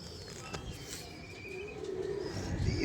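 Kept pigeons coo in a low, swelling phrase that grows louder toward the end, close by, over a breezy background with light chirps and a hint of wing flapping.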